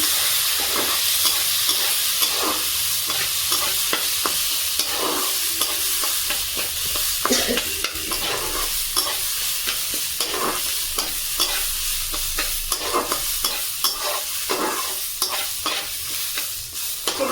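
Khichuri ingredients get stirred in a pan over a medium flame, a continuous frying sizzle broken by rhythmic scraping strokes of a spatula, close and even throughout, with no voices.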